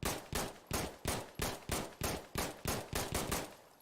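Automatic gunfire in the shooter game Insurgency: Sandstorm, about a dozen evenly spaced loud shots in a steady rhythm, close and alone without speech.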